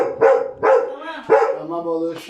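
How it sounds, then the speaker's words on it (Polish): A young dog barks repeatedly at visitors in a home, three loud close barks in quick succession followed by a higher whimpering yip. "Ciocie sobie sprawiły psa i pies szczeka, jest młody, chce się przywitać"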